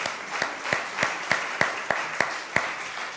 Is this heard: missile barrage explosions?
no